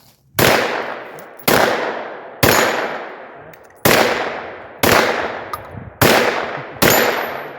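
Seven loud, close semi-automatic shots from a Turkish MKE AP5 MP5 clone are fired one at a time at uneven intervals of about a second. Each crack has a ringing outdoor decay, and no one speaks.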